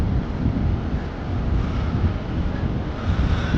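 Steady wind rushes and buffets the microphone, a continuous low roar with no voices, on a high walkway among metal tree structures.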